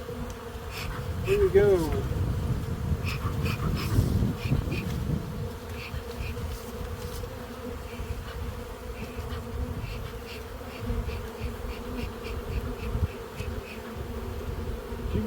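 Dense, steady buzzing of honey bees at a crowded spring hive, close and continuous, with a brief spoken phrase near the start.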